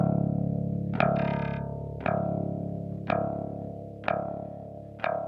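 A low bass note is played repeatedly through a Great River PWM-501 and 32EQ chain with the high-pass filter engaged. Five sharp plucked attacks each decay under a steady low hum, with no talking.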